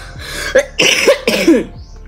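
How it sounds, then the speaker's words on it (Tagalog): Several loud, harsh coughs come in quick bursts close to the listener, with short breaths between them and no talking. "ayun na atake na agad yung ubo ko."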